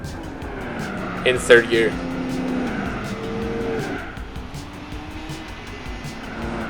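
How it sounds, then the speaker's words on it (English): Tire squeal from a big-block Buick Custom doing a quarter-throttle burnout on poor tires in Gran Turismo 4, a high screech rising briefly over steady engine drone while someone talks throughout. "I'm quarter throttle just doing a burnout"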